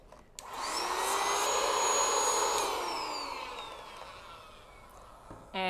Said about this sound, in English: And one more quick round with the air blower.